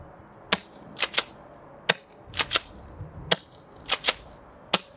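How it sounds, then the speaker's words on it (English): FABARM STF-12 gas pump-action airsoft shotgun fired outdoors in aimed shots, sharp close cracks in irregular pairs and singles, about a dozen pops over five seconds, each mixed with pump clacks. "So now I'm aiming a little bit more, taking some more aim shots."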